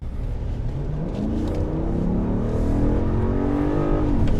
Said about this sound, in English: So I'm going to get onto the interstate here. We're going to get on the throttle.